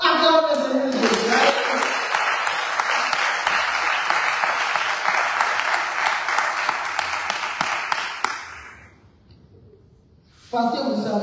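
Loud, sustained applause from a church congregation in Senegal fills the room for about eight seconds, dense clapping that fades into near silence before a voice breaks in again at the end.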